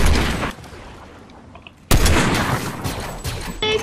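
Gunfire in a Fortnite zero build match: a burst of shots at the start, a quieter pause, then a loud, sustained volley of rapid shots with crackling impacts continuing to the end.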